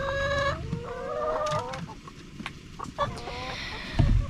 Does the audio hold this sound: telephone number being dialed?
no